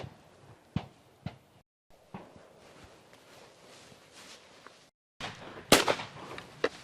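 Outdoors on a hunting trip, several sharp gunshots crack out, one at the start and a louder close report near the end, with rustling and footsteps between.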